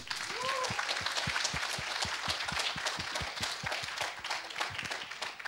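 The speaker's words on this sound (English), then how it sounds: "can you give like a thunder-like applause?" A crowd at a game development hackathon finals applauds steadily, dense clapping close and even throughout, with a brief voice or whistle rising early on.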